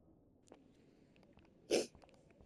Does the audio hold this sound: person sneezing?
yes